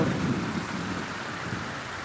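Heavy rain with thunder pours down in a steady, loud, dense roar, with a low rumble of thunder underneath throughout and no voices.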